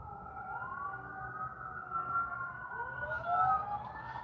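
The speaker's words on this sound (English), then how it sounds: "It's like the 5th time we've heard sirens this live stream." Several emergency sirens wail at a distance, their overlapping rising and falling tones drifting faintly over a low background rumble.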